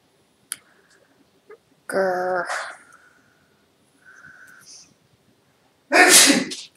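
Two loud, sharp sneezes from someone indoors, each a sudden explosive burst, spaced several seconds apart, with scattered small clicks and a brief faint voice between them.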